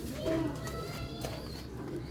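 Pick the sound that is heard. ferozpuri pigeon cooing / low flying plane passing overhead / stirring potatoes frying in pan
ferozpuri pigeon cooing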